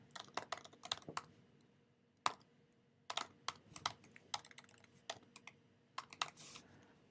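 Computer keyboard typing during JavaScript coding, irregular bursts of crisp close key clicks with short pauses between runs, quiet and without talking.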